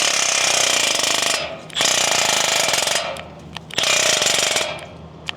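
A Milwaukee power tool, used on motorcycle nuts on a QJ Motor SRV 550, also known as the Benelli Leoncino, rattles loudly in two long bursts with a brief pause between them, with no talking.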